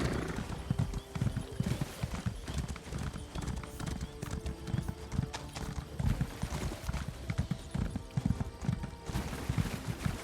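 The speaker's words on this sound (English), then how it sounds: "Horsey!" Horse hooves clip-clop steadily with neighing in Elder Scrolls Online, mixed with game sounds and speech in the background.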